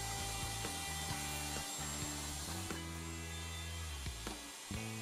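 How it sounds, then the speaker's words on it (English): A router guided through a dovetail jig's template openings, cutting sockets into a wooden board: a steady motor whine with rhythmic in-and-out grinding and rasping passes through the wood, close and loud, with no voices. "The socket board is routed by moving in and out of the template openings."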